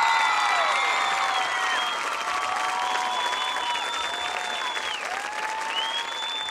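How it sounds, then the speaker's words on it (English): A crowd at a school homecoming applauds steadily and loudly throughout, with high whistles and cheers rising above the clapping. "Let's have a nice round of applause for all of our ladies tonight."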